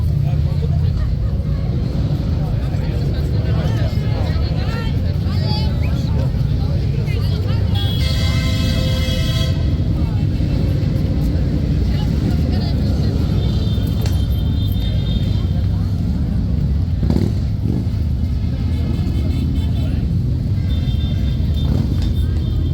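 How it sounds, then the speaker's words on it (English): A large group of bikers rev motorbike engines near the King's Guard, a loud continuous roar with rising bursts, while people talk over it. "Revving their engines now in the background."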